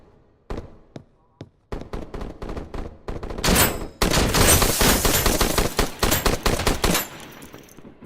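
A shotgun fires in the video game HOLE, several sharp separate blasts early on, then a loud dense barrage of rapid overlapping gunfire that rolls on before tapering off, close and forceful.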